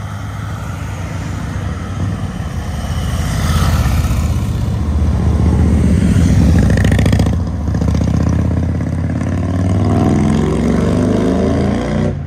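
Harley-Davidson Low Rider ST motorcycle with a Wilbers Nivomat fitted, out on a test ride: a loud, continuous low engine rumble with wind noise, rising and falling as it accelerates and shifts, no talk.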